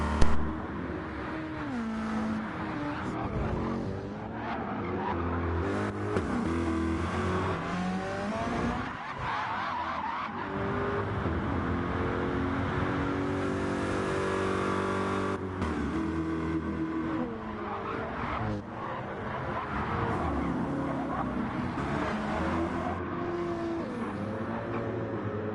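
Race cars at the Red Bull Ring in Gran Turismo 7 during an endurance race, engines revving and shifting continuously with rising and falling whines, occasional tire squeal, loud and close throughout.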